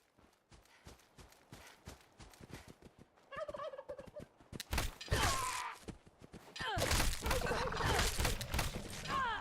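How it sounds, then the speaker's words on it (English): Turkeys in a video game gobble repeatedly and attack, with rapid clattering hits and scuffling building from sparse knocks into a loud, dense, chaotic burst near the listener, no talking. "I'm getting attacked by turkeys."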